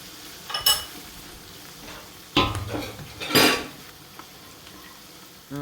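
Green beans frying in a pot for Nigerian fried rice, stirred with metal utensils that scrape and clink in three distinct bursts over a soft steady sizzle.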